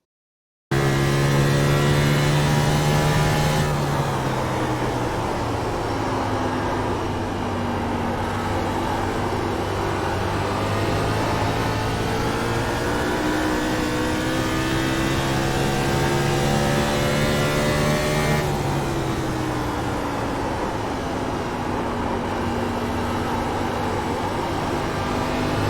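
A race car engine during a lap at New Hampshire in the iRacing video game, a steady loud drone whose pitch climbs and drops with gear changes and throttle, running continuously without talk.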